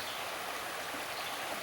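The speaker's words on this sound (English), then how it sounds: "Can you hear the creek talking to us?" Creek water rushing over small rapids in a wooded stream, a steady broadband wash of flowing water, close and continuous with no pauses.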